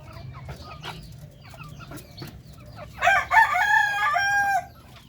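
A darag native chicken rooster crows once, loud and close, a drawn-out harmonic call after quieter clucks and soft background murmurs on a breeder farm in Zaragoza, Nueva Ecija.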